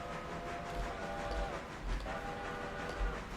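A train rolls along in the railroad game Railroader, a continuous loud rumble with a sustained tonal horn-like drone and periodic low thumps from the wheels, no talking.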